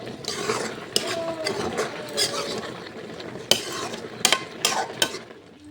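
Vegetables are stirred in a pan in a home kitchen, with scraping and clinking of a utensil against the metal and a soft sizzle, in irregular strokes with sharp knocks.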